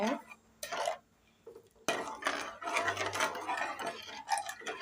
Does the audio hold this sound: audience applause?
no